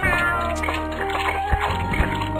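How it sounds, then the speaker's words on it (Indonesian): A cat meows in a SpongeBob SquarePants video game, a few short cries set over busy game music and effects. "Aduh, meong lagi deh."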